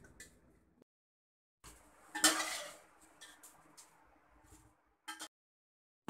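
Mangoes being scooped with a strainer from a pot into a basket while preparing water-style mango pickle: scattered clinks and scrapes of utensils, with one louder clattering burst midway and a couple of short knocks near the end.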